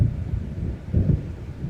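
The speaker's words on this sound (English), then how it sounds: "It seems there's a storm coming." Thunder from an approaching storm in the Alan Wake video game rolls as a deep, loud, continuous rumble with a swelling surge midway.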